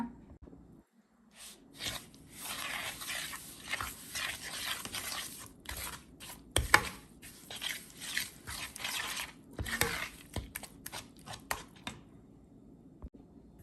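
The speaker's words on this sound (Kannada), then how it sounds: "ಸೊ ಈಗ ಇದನ್ನೆಲ್ಲ ಮಿಕ್ಸ್ ಮಾಡ್ಕೊಳ್ಳೋಣ." Cauliflower handvo batter being mixed by hand in a bowl, a run of wet, squelchy slaps and scrapes repeating irregularly for several seconds, close and moderately loud with no talk.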